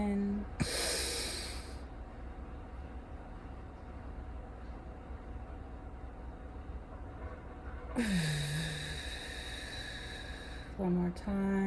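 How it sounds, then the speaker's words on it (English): During a chakra-clearing breathwork practice, a deep audible inhale rushes in near the start and another strong breath is drawn in later, long quiet stretches between them. "And breathing in."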